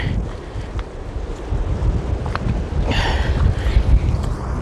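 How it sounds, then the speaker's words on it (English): Wind gusting on a forest hiking trail, a low rumbling rush that swells and buffets the microphone, with some rustling. "Ooh, there goes that wind."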